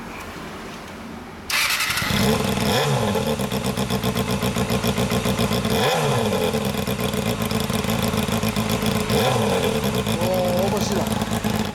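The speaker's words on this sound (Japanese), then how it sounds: "エンジンかけて、どんな音するんだろう" A Kawasaki Balius 250 with a full exhaust cranks and fires up close, then settles into a loud, busy idle with several sharp throttle blips rising and falling; a voice speaks briefly.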